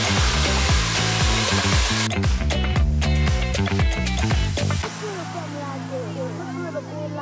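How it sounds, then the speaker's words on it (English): A hair dryer blows steadily on styled bangs under loud music, with a broad constant airflow hiss that continues after the music drops out halfway through. "The bangs a little bit more with the dryer."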